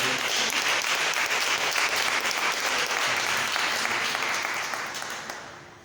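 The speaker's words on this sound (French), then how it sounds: "Est-ce qu'on peut encore applaudir le Seigneur?" Congregation applauding in a cathedral church during a service, sustained loud clapping that fills the space evenly, then fades out toward the end.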